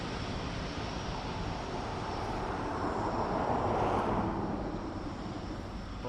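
A steady broadband aircraft roar at Dublin Airport, swelling slightly midway through, continuous and fairly distant with no voices.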